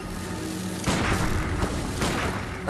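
A booming blast in Bloodborne, a loud, heavy explosion breaking out of a rumbling background, followed by a second burst near the end.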